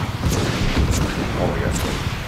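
Enemy gunfire in Just Cause 3 rattles in dense, booming, overlapping bursts, loud and continuous, with a voice speaking over the barrage.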